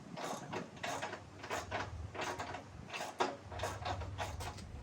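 A wrench tightens a 7/8 bolt on a vehicle front end, a series of close, quiet ratcheting clicks in a steady repeating rhythm, no voices.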